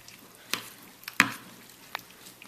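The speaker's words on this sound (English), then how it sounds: "once you've stirred it pretty good" Salsa being stirred in a bowl, a few scattered scraping and clicking strokes of a utensil against the bowl at irregular intervals, close by and fairly quiet, with no one talking.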